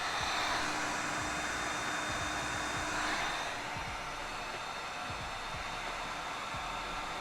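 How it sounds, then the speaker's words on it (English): A heat gun blows a steady, loud roaring hiss while heating markers, constant for several seconds before easing slightly to a softer sustained whoosh, with no talking. "we're gonna heat these both up with a heat gun"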